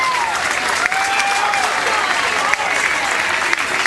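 Crowd at a high school state semifinal baseball game cheers and applauds steadily, a loud, dense wash of clapping and voices with brief sharper claps throughout.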